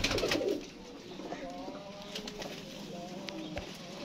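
Pigeons coo softly and repeatedly at a rooftop loft, low rolling calls near and fairly faint, following a short burst of louder noise at the start.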